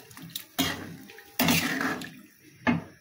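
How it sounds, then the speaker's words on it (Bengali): Water is poured into a pot of cooking pumpkin curry in three short, close splashing bursts, separated by brief pauses with light kitchen clatter. "এবার আমি পরিমাণ মতো জল দিব।"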